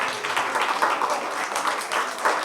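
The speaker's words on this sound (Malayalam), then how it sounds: "SFIയിലെ ചേട്ടന്മാർക്കും ചേച്ചിമാർക്കും നല്ലൊരു കൈയടി കൊടുത്തേ." Schoolchildren at St. Mary's School, Mallappally, applauding SFI members during the school admission festival, with a dense, continuous burst of many hands clapping together, moderately close.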